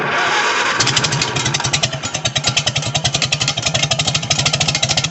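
An IH 120 lawn mower engine sputters and struggles before the throttle is raised, then settles into a loud, rapid, rhythmic chugging with clattering pulses, close by.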